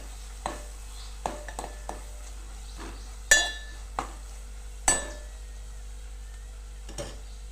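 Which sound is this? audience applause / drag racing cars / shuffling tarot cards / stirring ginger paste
stirring ginger paste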